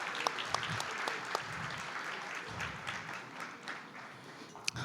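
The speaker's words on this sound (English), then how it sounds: "Let's keep clapping for the World House Choir." Sustained audience applause for a choir at a summit, a dense wash of many hands clapping at moderate volume with a few sharper claps standing out.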